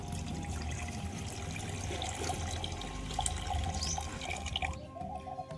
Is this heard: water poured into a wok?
yes